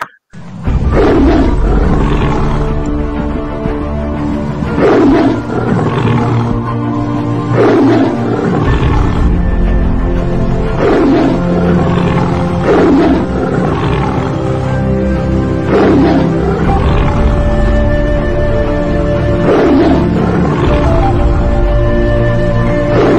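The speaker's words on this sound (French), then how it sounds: "On fait rugir le lion de Côte d'Ivoire," A lion roars repeatedly, a series of deep, loud, close roars and grunts in a steady rhythm that fills the whole stretch, with no voices over it.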